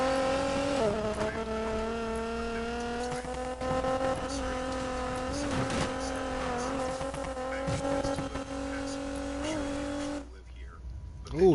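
A car drifts in a racing video game on PS4, its engine holding a steady high whine while tires squeal through a long sustained slide, loud and close, then the sound cuts off abruptly.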